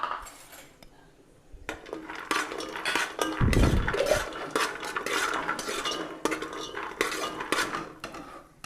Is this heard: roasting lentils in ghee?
yes